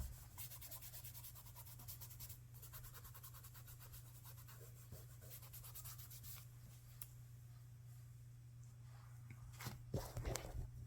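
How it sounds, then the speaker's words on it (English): A fingertip rubbing oil pastel across a paper background gives a faint, continuous soft scratchy friction over a low steady hum, with a few brighter scrapes near the end. "I'm just taking my finger and rubbing the background a little."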